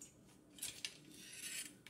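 Metal cutlery clinks as a knife is picked up from among other utensils, a few light, close taps and scrapes at low volume with no talk.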